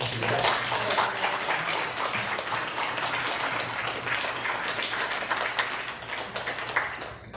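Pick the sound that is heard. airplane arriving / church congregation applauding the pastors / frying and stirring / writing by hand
church congregation applauding the pastors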